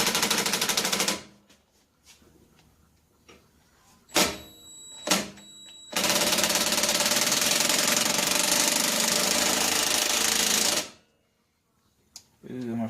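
A loud impact wrench hammers on a nut of the rear brake master cylinder of a 1983 Honda Gold Wing GL1100 Aspencade, first in one burst, then two short blips, then a long continuous rattle of about five seconds, with quiet pauses between.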